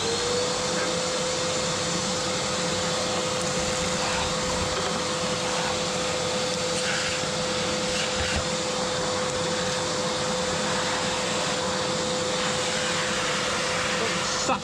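Vacuum cleaner sucking steadily with a constant motor whine and broad airflow roar, loud and unbroken throughout, used during odd jobs around a work site.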